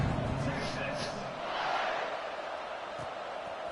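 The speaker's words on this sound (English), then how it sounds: "this crowd is buzzing after that last score" A college football stadium crowd buzzes steadily after a score, a broad continuous roar throughout, with an announcer talking over it.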